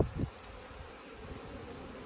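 Native honeybees buzzing during a hive rescue in Mallorca, a steady low insect hum near the comb and brood frames, with a brief louder thump at the start.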